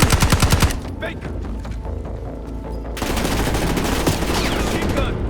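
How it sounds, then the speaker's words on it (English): Machine gun fire from the Call of Duty: Black Ops 6 campaign: a loud rapid burst opens, then scattered shots and booms sound under dense battle noise and faint voices. "Machine gun."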